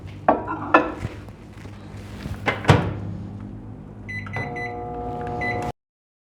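A microwave oven running while diet sugar-free sweets cook in small bowls, with a steady hum under clattering dishes and door clunks, ending in a series of electronic beeps before cutting off.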